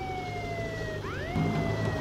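Wailing police car siren from a vehicle in the game Contraband Police, the tone sweeping down and then rising again, loud and close over a steady engine rumble.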